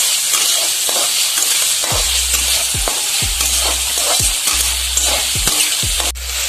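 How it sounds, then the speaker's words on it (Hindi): Brinjal bharta fried in a pan and stirred, giving a loud, constant sizzle with a regular pattern of spoon scrapes against the pan, about one every half second. "अब हम इसको भूनेंगे।"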